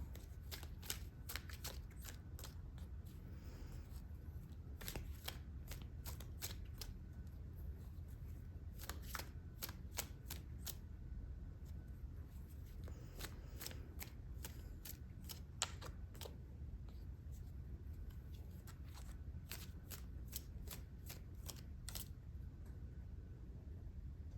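A deck of tarot cards is shuffled in repeated soft riffles and flicks, close and fairly quiet, with crisp card snaps scattered over about twenty seconds against a low steady room hum and no talking.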